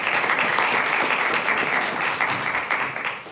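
An audience at a city council meeting claps in a dense, steady burst of many hands that fills the room for a few seconds, then begins to thin out toward the end.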